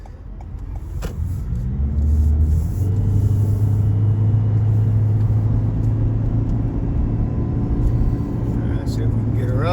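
A 2020 Toyota Corolla Hybrid with an intermittent coolant pump fault picks up speed on the road, its steady engine hum and road rumble rising slightly and then holding, close and continuous from inside the car.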